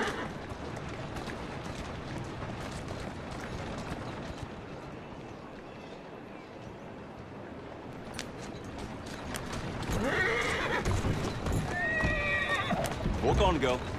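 A horse in Assassin's Creed Syndicate whinnies loudly near the end, after a stretch of trotting hooves and game ambience, with a voice talking over part of it.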